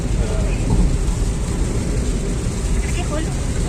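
Steady rain falling in sunshine hisses and patters throughout, with a low rumbling wash underneath and no clear talk.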